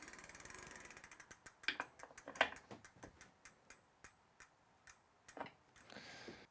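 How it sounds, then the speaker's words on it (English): A bike pedal tightened with a pedal wrench gives a quiet, close run of regular ratchet-like clicks, steady at first and then spacing out into separate ticks. "finalizing it with a pedal wrench or 15mm wrench."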